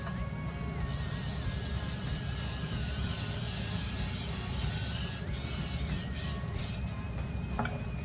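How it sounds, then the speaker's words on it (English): A steady hiss of olive oil cooking spray on a pan runs for several seconds without a break, loud and close. "now I'm going to just degrease my pan with a little olive oil spray"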